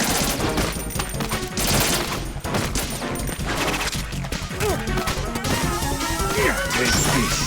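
Rapid bursts of gunfire and crashing impacts from the video game Metal Gear Solid 2 run loud and dense throughout, with sharp repeated shots crowding the whole stretch and a voice briefly heard among them.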